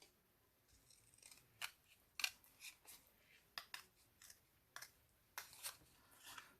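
Scissors cutting a flower petal out of paper: a quiet series of crisp, close snips, irregular and spaced a fraction of a second apart, alone with no talk.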